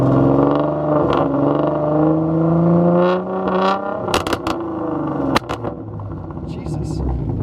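A supercharged V6 Ford Mustang GT500 engine being revved, with a rattling noise heard as a loud low rumble and whir that drops off into clattering and clicks, while people talk over it.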